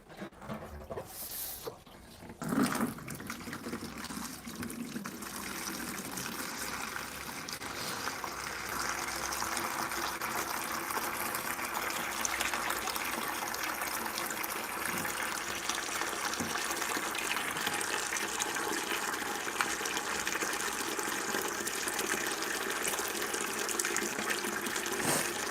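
Steady rushing pour of tap water filling a tropical fish tank during a water change, broadband and continuous for most of the stretch after a brief softer start, with no talking.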